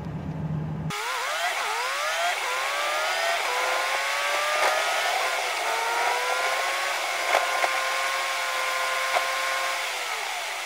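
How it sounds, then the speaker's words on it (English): A Subaru XT Vortex drives down a street, its engine note climbing steadily through the gears from inside the car, loud and continuous with no talk. "I'm driving down this street in a Japanese car that was inspired by aircraft"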